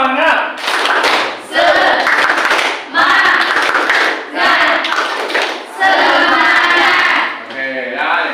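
A classroom of students claps a rhythmic spirit cheer in several loud, patterned bursts with short pauses between them, voices mixed in.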